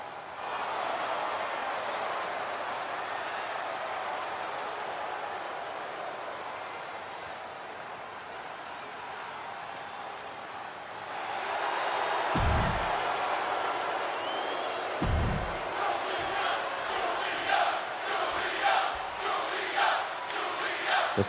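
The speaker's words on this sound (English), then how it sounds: "You can hear them chanting for her." Arena crowd in a WWE 2K25 wrestling match on Friday Night SmackDown, a broad steady roar of cheering and chanting that swells louder midway, with a few sharp thumps and rhythmic claps, no voices heard over it.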